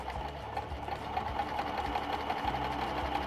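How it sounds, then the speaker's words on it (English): A sewing machine stitching a buttonhole runs steadily at close range, a fast even needle rattle with a low motor hum, no voices over it. "Going to lower our presser foot lifter, and we're going to stitch."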